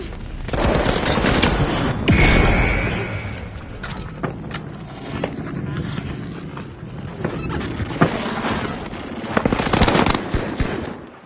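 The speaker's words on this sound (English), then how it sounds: "Fireworks!" Fireworks going off at a live competition event, a loud, dense barrage of crackling bangs and bursts continuing throughout, with sharper blasts standing out near the start and toward the end.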